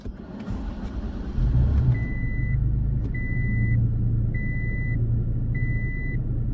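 Incessant electronic beeping in a garage during a Toyota Tacoma cold start, a repeating evenly spaced tone of about a second each over a low idling engine rumble, no voices.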